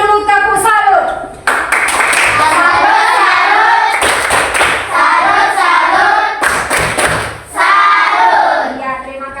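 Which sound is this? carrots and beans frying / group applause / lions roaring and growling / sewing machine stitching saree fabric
group applause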